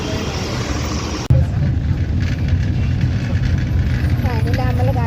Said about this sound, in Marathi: चला, आमची एसटी आलेली आहे.